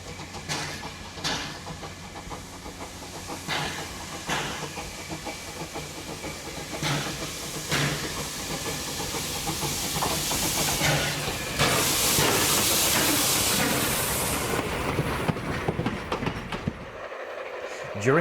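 A steam locomotive on a photo run-by at Fernley at dusk passes with a steady hiss and rumble that swells toward a peak near the end, accompanied by rhythmic clicks from the rails.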